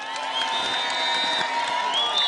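A large open-air opposition rally crowd in Keroka, Kenya, claps and cheers continuously, a dense steady wash of applause with whoops and shouts.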